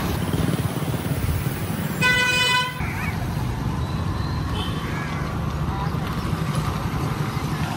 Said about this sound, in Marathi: मुरबाडमधल्या मार्केटमध्ये थोडंसं ट्रॅफिक भेटलंय